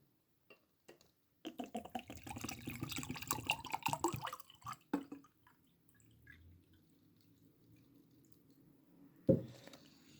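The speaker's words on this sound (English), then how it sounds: "Add about 500 milliliters of water." About 500 milliliters of water poured into a mango-flavored isotonic drink mix from a French Army ration, a close trickling splash lasting a few seconds, then quiet drips and a final clink.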